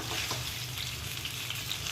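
Steady, close sizzling of spices frying in a pan, with soft scraping as they are stirred, no talking.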